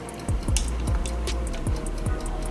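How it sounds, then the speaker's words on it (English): Boiled eggs are dropped into a bowl of ice water, giving five soft plopping splashes at irregular intervals over a steady low background hum. "We're sticking them in the ice water."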